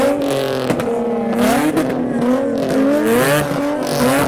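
Several cars at a car meet rev their engines together, producing loud, overlapping rising and falling engine notes that continue steadily, close by.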